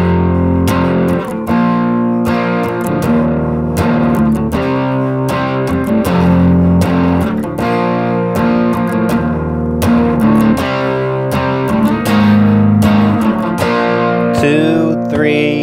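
A song's verse on a distorted electric guitar, with chugging chords that stay loud and dense and sharp muted strikes throughout, trailing off into a short scratchy noise at the end.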